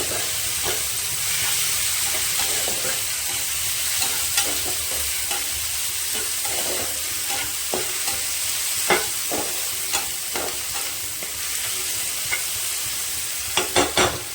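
Tomatoes with salt fry in a pan for an egg and tomato dish, giving a steady soft sizzle broken by repeated scraping and stirring clicks from a utensil, close up and without speech.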